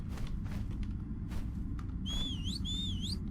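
Two bright wavering whistle calls from the game Ragnarok sound close together near the end, each swooping up and down, over a constant low background hum and a few faint clicks.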